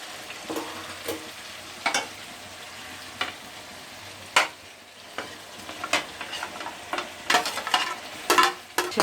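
Chicken pieces fry and sizzle in a hot karahi for a charsi chicken karahi, with a steady hiss broken by repeated sharp stirring scrapes and clatters at close range, and no talking.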